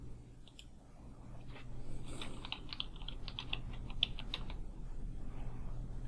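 Keys tapped on a computer keyboard while editing a spelling error in a list entry in the CemTrax program, a soft burst of quick irregular clicks over a low steady hum, faint and close.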